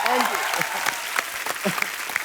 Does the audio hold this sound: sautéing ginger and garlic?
no